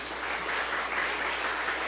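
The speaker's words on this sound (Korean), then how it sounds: "박수로 환영하겠습니다." Applause from a church congregation welcoming a guest, a soft and steady patter of many hands clapping that holds at an even level from start to finish, with no talk over it.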